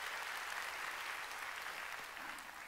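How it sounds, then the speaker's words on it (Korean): Congregation applause during a Sunday church service, faint and steady dense clapping from many people filling the whole span at an even level. "자신에게 박수 치라고."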